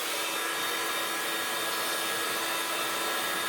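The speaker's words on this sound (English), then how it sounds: "dry with the heat tool" A heat tool blasts a steady loud whirring hiss of hot air close by while drying an art journal page, constant and unbroken with no voices.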